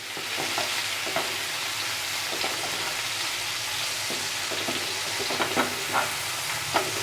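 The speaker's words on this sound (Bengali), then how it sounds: "টমেটোটা খুব ভালো করে আমি টমেটো কুচিগুলোকে ভেজে নিলাম।" Chopped tomatoes fry in a pan with a continuous soft sizzle, broken by light scraping stir strokes, close and fairly quiet.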